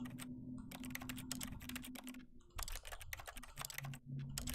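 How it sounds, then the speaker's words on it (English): Rapid, continuous typing on a computer keyboard while playing The Stanley Parable, dense clacking keystrokes close to the microphone and fairly quiet, with a low hum underneath and no talk. "I'm pressing every single thing on my keyboard."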